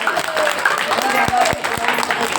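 Audience at a religious storytelling gathering claps briefly, a few sharp claps standing out from a dense wash of crowd noise and voices.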